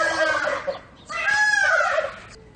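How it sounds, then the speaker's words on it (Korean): A male turkey at a zoo gobbles loudly twice in close succession, rapid warbling calls ringing out close by with no talking. "너네 왜 이렇게 소리를 지르는 거니? 이 수컷이 되게 칠면조거든요"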